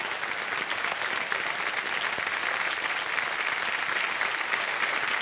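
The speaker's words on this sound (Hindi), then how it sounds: "तालियां बज जाए इनके लिए" A studio audience on the KBC quiz show bursts into steady, even applause, a wide wash of many hands sustained at moderate level for the whole stretch.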